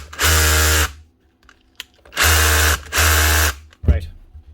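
A Makita SDS rotary hammer drill on a repair bench runs in three close, loud bursts, with a short pause between the first and second, then a brief clunk at the end.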